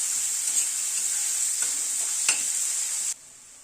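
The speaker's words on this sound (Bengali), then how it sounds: "গ্যাসের ফ্লেমটাকে মিডিয়ামে রেখে পেঁয়াজটাকে হালকা করে ভেজে নিচ্ছি।" Chopped onion frying in oil in a pan over a medium gas flame, giving a steady close sizzle with a couple of faint stirring clicks, cutting off near the end.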